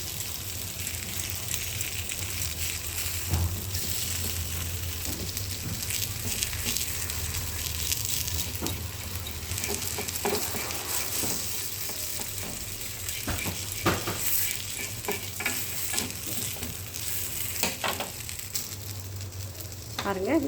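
Fenugreek leaf adai frying in an iron pan, with a steady close sizzle running throughout and occasional scraping and turning sounds as the flatbread cooks.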